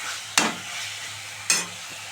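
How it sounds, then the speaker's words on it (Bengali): Dried fish spice masala frying low in a pan, a soft steady sizzle broken by two sharp scraping stirs of the spoon, quiet and close with no talk. "পাঁচ মিনিট ধরে পুরো গ্যাস কমে কমে কষাবো"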